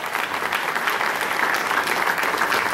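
Steady, dense audience applause fills a civic ceremony in Papantla, sustained and fairly loud throughout with no voices over it.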